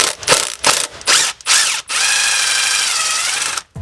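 A ratchet loosening an exhaust pipe clamp near a sway bar: several short bursts of rapid clicking, then one longer steady ratcheting run of about two seconds, loud and close with no talking.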